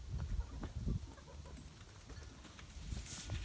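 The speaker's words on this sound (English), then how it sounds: "So all roosters." Roosters in a bachelor pen, all males with no hens, make low clucks and soft scuffling noises close by, faint and irregular throughout.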